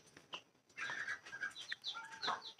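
Pet birds, including budgies kept alongside ducks, give faint, short chirps and calls in quick succession, with a soft flutter early on, heard at low level with no talking.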